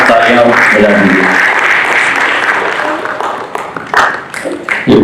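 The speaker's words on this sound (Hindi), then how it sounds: "तो इनके लिए जोरदार तालियां बजा दीजिए" Loud audience applause at a theatre play performance honouring the director, sustained clapping for several seconds that tapers off, with some voices over it near the end.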